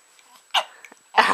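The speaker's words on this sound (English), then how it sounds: "Oh no, we got hiccups." A few short, sharp hiccup-like bursts, spaced irregularly across a little over a second, sounding close and fairly loud against quiet.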